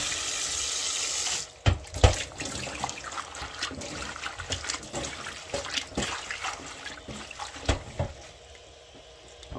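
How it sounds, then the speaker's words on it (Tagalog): Running tap water splashes over sweet potato leaves and bitter gourd leaves being washed in a sink, a steady flow broken by clattering handling and splashes, close and without talk. "Hugasan lang natin ng maigi"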